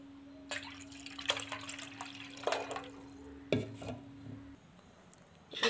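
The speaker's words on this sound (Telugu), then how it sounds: "ఇప్పుడు దీంట్లో కొంచెం పాలు వేద్దాము." Milk poured into a ragi mixture in a pot gives faint splashes and drips, with a few light clinks over a steady low hum.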